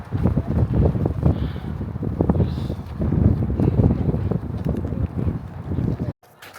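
Strong wind at Spooner Lake buffets the microphone in heavy gusting rumbles that swell and ease, loud and close, before a brief cutoff near the end.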